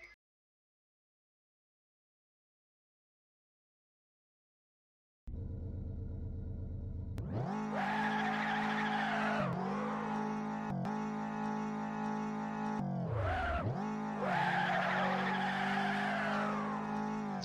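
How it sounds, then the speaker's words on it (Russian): A video game car engine revs hard in reverse, steady and loud, then dips abruptly and surges again as the car is thrown forward, with tire squeal layered over the rising engine tone after a long silence. "я сперва разгонюсь на задней передаче, а потом резко попытаюсь поехать вперед"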